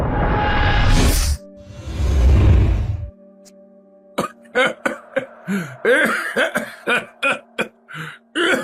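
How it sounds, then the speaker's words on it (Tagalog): An old man coughing: a couple of long, harsh, rasping coughs up close, then after a pause a stretch of broken, choppy throat sounds and short coughs. "Mukhang inaatake na naman po kayo ng ubo ninyo"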